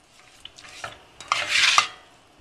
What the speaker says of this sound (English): put your pasta in the pot. Mix it all around